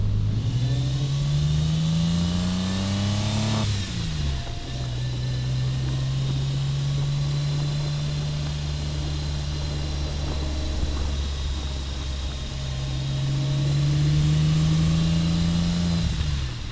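A loud Porsche 911 engine revs up on the road, drops as it shifts, then holds a steady roar before climbing again, close and continuous without speech.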